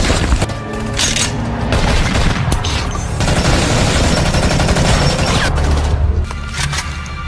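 Heavy gunfire from a film shootout, dense bursts of shots and booming impacts hammering continuously for several seconds, loud and close with no speech.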